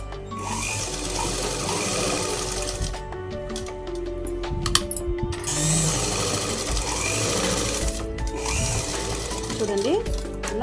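A sewing machine stitching fabric runs steadily up close for most of the time with a buzzing, rattling whir, pausing briefly midway, while a person speaks over it.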